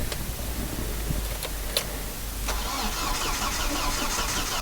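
A 2004 Audi A4 B6 engine cranks with sharp ticking clicks, then catches and settles into a steady, rough mid-pitched idle, boosted by a jump pack; loud and close with no talking.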